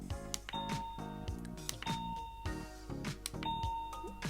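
A bright electronic timer chime plays a repeating melodic pattern of clear tones, looping several times in a steady rhythm, close and unaccompanied by speech.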